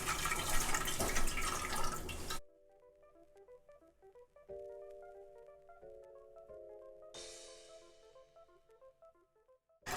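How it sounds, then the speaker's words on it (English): Water pours into a pot of homemade chicken noodle soup as a dense, steady rush for about two seconds, then stops; soft plinking tones follow in the quieter remainder. "Now I'm pouring in 7 cups of water."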